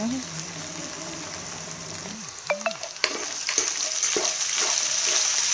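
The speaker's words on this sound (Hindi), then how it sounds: "इसमें लहसुन अदरक का पेस्ट डालने के बाद इसको हमने अच्छे से भून लेना है" Garlic ginger paste fries in a pan with a steady sizzle, broken by a few clinks and stirring scrapes, while a person talks over it at close range.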